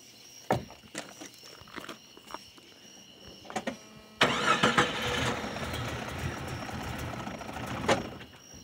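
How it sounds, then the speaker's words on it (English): A Jeep's engine turns over and catches after a few sharp clicks and clunks, then settles into a steady, fairly loud idle nearby. "I'm going to start the Jeep up"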